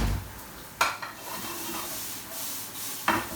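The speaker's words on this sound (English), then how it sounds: "Now I will put here shredded onion and capsicum." Shredded onion and capsicum sizzle in a frying pan with golden-browned ginger, garlic and chili, a steady broadband hiss broken by two sharp stirring clanks, no voices.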